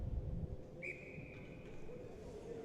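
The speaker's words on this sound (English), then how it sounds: "and a whistle" Referee's whistle at an 18U ice hockey game, one long thin blast held for about a second from some distance, over faint rink noise and a brief thump at the start.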